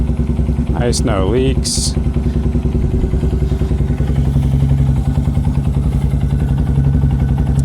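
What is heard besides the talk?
Honda Grom SP motorcycle engine starting up and idling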